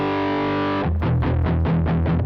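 Electric guitar runs through a Sonicake Rude Mouse distortion pedal with the filter turned up: a sustained fuzzy chord rings out, then a series of rhythmic, heavily distorted chugging strums follows at a steady pace.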